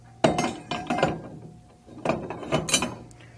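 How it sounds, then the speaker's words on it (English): A torque wrench tightens a fitting onto the inlet nipple inside a fuel spill bucket, giving two bursts of metallic ratcheting clicks and clinks, close and fairly loud, with a short quiet gap between them. "Using the 61 SA tool and a torque wrench,"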